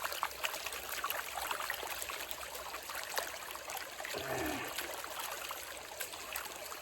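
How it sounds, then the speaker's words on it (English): Water sloshes and trickles as clay-laden gold panning material is shaken in a pan, a steady close wash of splashing with a brief gurgling pour near the end. "Add a little more water. Shake it up."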